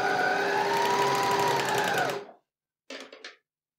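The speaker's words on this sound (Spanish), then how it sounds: "Bajamos prensatela y vamos a coser un pedacito." An overlock serger runs a short seam across fabric, a steady close mechanical whir lasting about two seconds before stopping, then a couple of brief bursts as the machine is nudged again.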